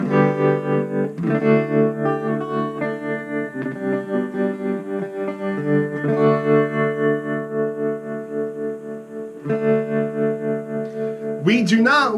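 Electric guitar with a pulsing tremolo effect sent through a Lekato A-8 wireless system, sustained chords throbbing steadily and loud for the whole stretch, with a brief bend of notes at the end.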